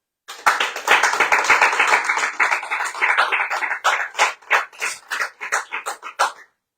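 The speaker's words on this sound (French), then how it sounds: "et pour ça, on les applaudit." Applause from a small group in a French radio bistro show, close, lively clapping with distinct hand claps that start abruptly and gradually thin out before stopping.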